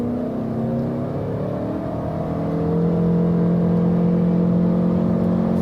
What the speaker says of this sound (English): we can also accelerate it out, show you an acceleration test